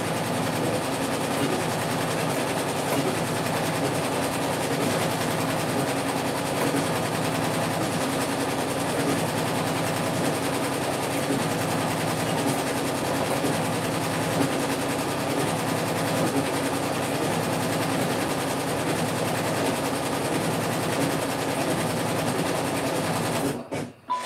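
A sewing machine stitches continuously for over twenty seconds, a close, steady mechanical whir and rapid needle rattle that holds an even level before stopping abruptly at the end.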